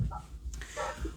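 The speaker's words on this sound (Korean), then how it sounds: "지금 강아지 소리가 나는데 어디서 날까요?" A puppy gives a few short, yappy barks and whimpers in the background of a Bible study session, fairly loud and alone between pauses in speech.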